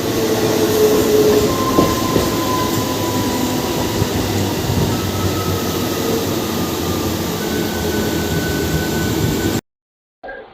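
The Puri–Howrah Dhauli Express runs at speed. A loud, continuous rumble of wheels and carriages carries faint squealing tones, then the sound cuts off abruptly near the end.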